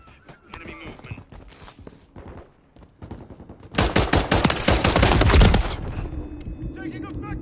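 Rapid automatic gunfire in the Call of Duty MW3 beta multiplayer, a dense loud burst of shots after scattered earlier fire, with game voices calling out over it.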